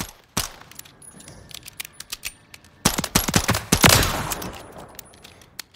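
Beretta M9 semi-automatic pistol firing in Call of Duty Modern Warfare III, a rapid run of loud, sharp shots with a dense burst near the end, no speech.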